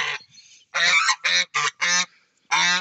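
Several loud, nasal goose honks in quick bursts, close by, with short gaps between calls.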